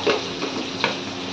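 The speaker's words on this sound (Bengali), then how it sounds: "এই যে চিচিঙ্গা দিয়ে পেঁয়াজ দিয়ে একটা ভাজা" Snake gourd and onion frying in a pan: a close, steady sizzle of oil with a few soft stirring scrapes and clicks of the spatula against the pan.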